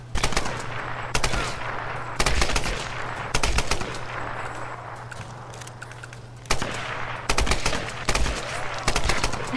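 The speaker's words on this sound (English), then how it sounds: "If I can shoot them while they're about to throw," Automatic gunfire in Tomb Raider, rapid loud machine-gun bursts repeating every second or so over a steady background hum, near and punchy, with no talk.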